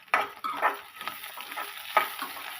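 Curry leaves and green chillies fry in a pan as a wheat rava upma is started, giving a steady crackling sizzle with brief stirring scrapes and louder spitting bursts near the start and toward the end.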